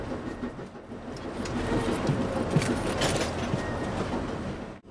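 A moving train rolls along rails near Las Cruces, New Mexico, with a steady loud rumble and faint clickety-clack running throughout, ending abruptly.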